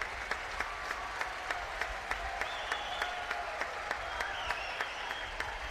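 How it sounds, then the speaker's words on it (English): Baseball fans at an NCAA tournament game applaud a successful sacrifice bunt: a broad, steady crowd clapping under a commentator's talk. Faint voices sit in the mix and brief cheers rise above it. "And the fans give him a little applause there."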